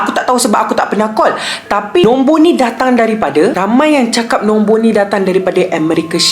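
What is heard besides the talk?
No everyday noise stands out behind the speech.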